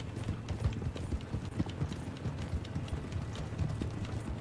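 Horse hooves gallop in a steady, rapid clip-clop throughout, close and fairly loud, as a rider crosses open ground in the video game Red Dead Online.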